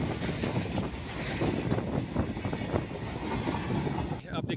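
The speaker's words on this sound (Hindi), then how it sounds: "आप देखिए ट्रेन जा चुकी है, पास हो गई है।" A train rolls along a railway track, with a steady loud rumble and clickety-clack of wheels filling the whole stretch before it eases off at the very end. A voice is faintly present underneath.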